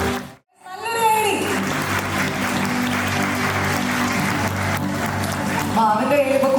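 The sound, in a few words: audience applause at preschool ceremony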